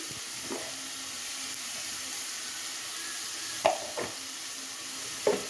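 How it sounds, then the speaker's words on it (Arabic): Onion sautés with meat in a pan, a soft continuous sizzle broken by a few sharp scrapes of a spoon stirring against the pan. "انا بس هشوح بس البصل مع اللحمه"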